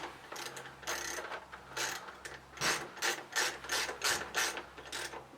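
A ratchet wrench tightens an Allen bolt on a 2017 Ducati 959 Panigale motorcycle, a series of rapid clicking pawl bursts in a steady back-and-forth rhythm, close and fairly quiet, with no talk.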